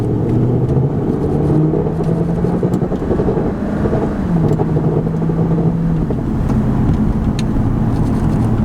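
Inside a moving 2003 Ford Thunderbird, the V8 engine hums and drones steadily, rising and falling with gear changes over a constant road rumble, with no talking.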